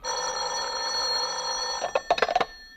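An old telephone bell rings in a steady sustained trill, fairly close, then breaks into a few short sputtering bursts at the end; a vintage radio suspense drama setting.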